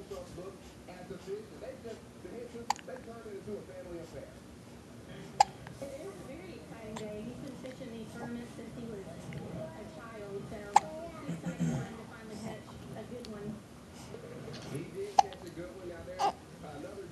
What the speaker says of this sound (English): She caught her mommy's hiccups.